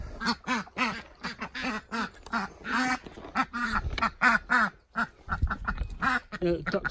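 Ducks quack in quick, repeated bursts close by, a busy run of loud calls with only brief gaps.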